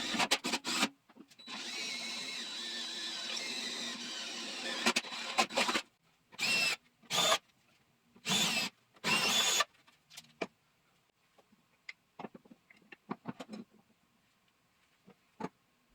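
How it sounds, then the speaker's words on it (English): A power drill whirs steadily for several seconds while drilling mounting holes in metal Shopsmith base legs, then cuts in and out in short bursts, followed by scattered clicks and light handling noises. "new mounting holes needed to be drilled into the legs to accommodate them"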